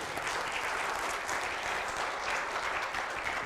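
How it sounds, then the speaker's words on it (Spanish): A church congregation bursts into sustained applause, with dense clapping from many hands holding steady at close range for a few seconds. "Démosle un aplauso al Señor Jesús."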